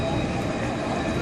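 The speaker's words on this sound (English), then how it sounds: "Even the trams are cheerful." A tram passing along a street in Montpellier, a continuous low rumble and rolling hum at moderate level, fairly steady over the short stretch, with no speech.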